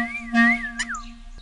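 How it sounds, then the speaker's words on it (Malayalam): A whistle is blown in a short, wavering shrill tone, rising and bending in pitch with a brief peak near the middle, fairly close and clear over a quiet background. "ഇതെന്താ വിസിൽ അടിച്ചാൽ?"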